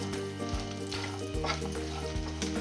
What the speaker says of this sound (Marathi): छान खोबरं असं लालसर होऊ द्यायचं, म्हणजे रश्श्याला चव छान लागते.